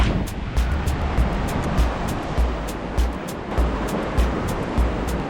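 Waves breaking and surging onto a rocky California shoreline at low tide, a steady roar of surf with repeated louder crashes every second or so, continuous and fairly close.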